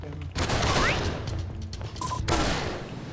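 Gunfire in the block-style action RPG 3079, including an enemy's shotgun, comes as a burst of loud, dense blasts that ring out and fade, with a second cluster of shots near the end.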